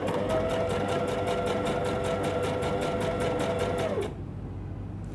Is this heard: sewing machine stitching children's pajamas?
yes